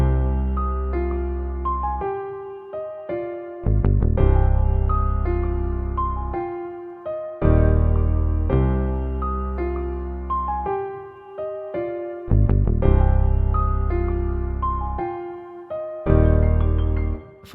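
A Rickenbacker bass follows the root notes in deep sustained tones beneath a piano melody, notes entering in regular phrases with each swell decaying before the next, no voices present.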